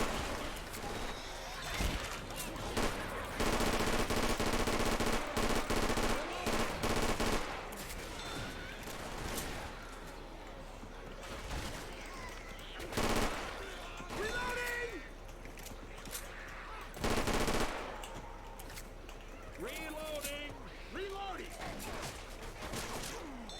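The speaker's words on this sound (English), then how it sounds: "A machine gun?" Rapid machine gun bursts in Left 4 Dead 2, loud repeated volleys clustered near the start and again midway, with quieter game noise and occasional voices between.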